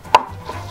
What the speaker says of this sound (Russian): Вот таким вот кубиком я режу.